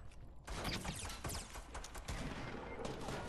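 Rapid bursts of gunfire crackle through a Fortnite match, a dense run of sharp shots and fusillades that keeps going for several seconds with no pauses. No one speaks over it.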